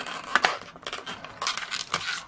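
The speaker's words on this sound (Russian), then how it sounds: "опять хороший скотч" Adhesive tape pulled off a roll and torn while assembling a model solar system kit: several short, close rasping bursts separated by brief pauses.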